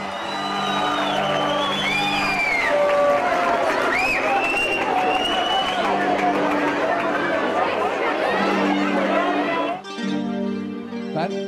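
An audience at a school folk-song contest applauds and cheers a returning champion singer invited onto the stage, a loud continuous wash of clapping, whoops and crowd chatter that cuts off abruptly near the end.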